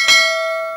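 Single bell strike used as a subscribe notification sound effect, a bright clean ding that rings out with a long sustained tone and slow decay, heard alone.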